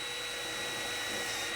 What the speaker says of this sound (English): I've just been drilling some small pilot holes here in the wood